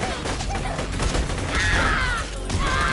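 Rapid gunfire rattles on in Borderlands 2, a dense, loud, continuous fusillade of shots with no pauses.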